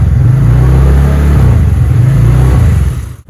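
A kick-started motorbike engine idling and revving loudly up close in steady pulses, then cutting off abruptly at the end.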